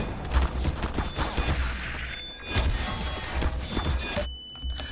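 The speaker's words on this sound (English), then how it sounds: "the security turrets and landmines that show up" Security turrets firing in Half-Life 2, dense rapid gunfire in loud sustained bursts with sharp cracks layered over a low rumble, ending in a brief quiet tail.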